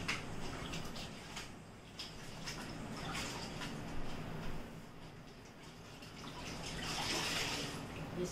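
A mop is rinsed out under running water in a home kitchen, producing a steady wash of splashing and gushing water that swells toward the end, close and with no talking.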